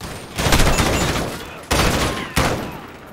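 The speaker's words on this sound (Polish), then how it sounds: "Skąd on strzela?" Bursts of heavy gunfire in Call of Duty: Modern Warfare (2019), a long loud volley followed by two shorter sharp bursts, close and dense.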